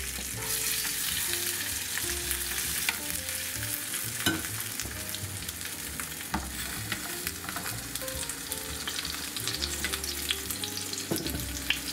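Duck breast fries loudly in a pan, a constant close sizzle with occasional crackles and pops, no voices.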